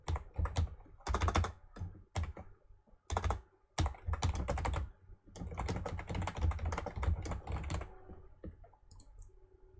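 Someone typing a name on a computer keyboard: close, irregular bursts of key clicks and taps with short pauses between them, growing denser toward the middle, with no voices.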